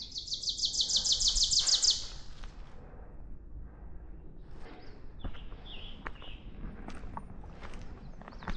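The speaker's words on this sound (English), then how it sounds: "The birds have been chirping so much you would think we're in like a pet store." Birds chirp along a steep forest hiking trail near Roberts Lake, Ball Ground, Georgia, with scattered high tweets from several directions over soft footsteps and rustling, after a brief loud insect-like trill at the start.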